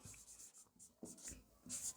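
Pen or chalk writing out a quadratic-equation answer during a maths lesson, a few short separate scratchy strokes with quiet pauses between them, faint and close, no talk.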